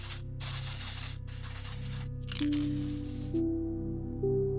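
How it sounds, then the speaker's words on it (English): Several short hissing bursts from a spray can of primer, each a second or so long with brief pauses between, close and fairly quiet over a low hum, while priming a Warhammer 40K Ork display board. "A quick extra spray of primer helps hold things together."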